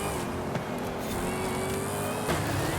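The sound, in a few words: Dodge Hellcat Redeye car drifting in Forza Horizon 5 video game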